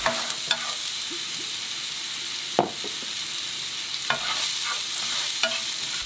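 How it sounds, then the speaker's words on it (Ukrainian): Onion sizzles steadily in a pan with oil and garlic, with occasional scraping stir strokes of a utensil against the pan, close and moderately loud, no talking. "додаємо цибулю. Перемішуємо і чекаємо на золотавий колір."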